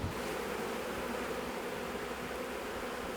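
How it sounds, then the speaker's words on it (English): Honey bees swarming around a busy hive on a farm, a dense, continuous buzzing drone close by, steady throughout with no voices. "It's a very busy hive."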